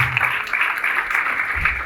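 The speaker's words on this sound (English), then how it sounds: "Please, let's clap for him." Audience clapping at a cabin crew fair, a steady, moderately loud patter of many hands throughout with a faint murmur underneath.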